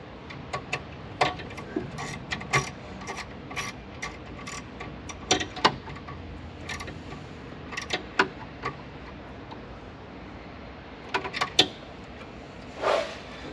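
A socket wrench tightens bolts on an F-4 Phantom DC essential relay, making quiet, irregular bursts of ratcheting clicks with short pauses between runs and a soft scrape near the end.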